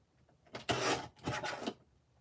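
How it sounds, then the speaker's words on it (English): A paper trimmer cutting pieces of card for handmade cards: two quick sliding, rasping strokes close by, each lasting about half a second, in an otherwise quiet room. "So while I have my trimmer out, I might as well trim these up."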